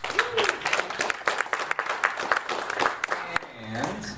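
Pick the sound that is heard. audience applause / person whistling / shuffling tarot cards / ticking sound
audience applause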